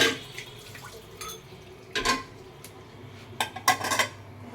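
A metal lid settles onto a pot of cooking Gobindobhog rice in a home kitchen, making a few short clanks and rattles spread over several seconds, close by, with no voices.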